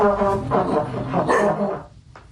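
Three dogs bark and yip together in a busy, overlapping burst at close range, reacting to a trombone being played by a girl in the home, before fading off near the end.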